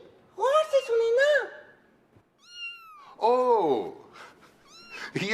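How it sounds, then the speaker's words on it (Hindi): A cat meows several times, clear and close, with drawn-out rising and falling cries, in a children's learning show; people talk in between the meows. "ये तो बिल्ली के म्याऊं म्याऊं करने की आवाज है।"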